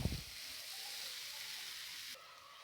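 Yellow pumpkin sautéing in ghee over a low flame, a soft steady sizzle with a brief clatter at the start, then an even hiss that thins slightly near the end.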